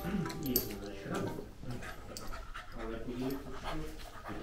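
A chubby pug pants in quick, close breaths, mixed with a few soft whimpers, while people talk over it throughout.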